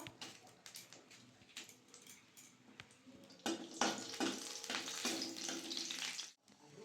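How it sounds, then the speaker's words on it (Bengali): Dry red chillies and panch phoron frying in mustard oil in a kadai give a soft sizzle that swells louder midway, with scattered clinks and crackles, quiet and close. "শুকনো লঙ্কা পাঁচ ফোড়ন ভাজা ভাজা হয়ে গেছে"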